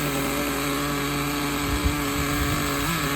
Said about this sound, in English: let's watch this thing start up real quick whenever you pinch the fuel line